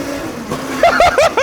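Electric mini trike with wheelie bars whines up hard under full throttle, a rising motor pitch in quick surges that ends with a bounce off the bars, loud and close.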